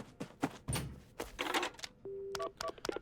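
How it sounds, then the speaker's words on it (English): Phone dialing in the video game Paranormasight while calling an ambulance: a run of sharp keypad presses and electronic tones, with a steady beep held for a moment near the end, all loud and close. "The phone. I've got to call an ambulance."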